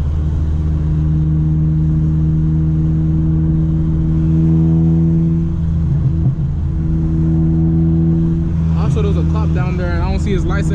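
Honda Civic Si with a K24 engine droning loudly from inside the car at night on a wet road, a steady sustained engine tone with a voice speaking near the end.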